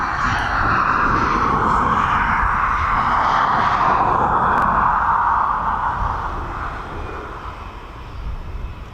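A Ryanair airliner arriving from Malaga at East Midlands Airport roars loudly and steadily as it passes, its engine noise fading slightly toward the end.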